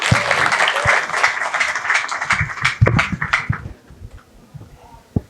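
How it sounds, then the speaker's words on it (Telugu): A crowd claps in sustained applause welcoming a speaker to the stage, fading out after a few seconds, leaving a few scattered claps. "వారిని గట్టిగా చప్పట్లతో వేదిక మీదకి ఆహ్వానించుకుందాము"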